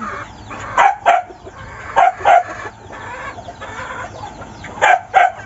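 A native chicken clucks in short, loud bursts, usually two quick calls at a time, separated by pauses over a quiet background hum.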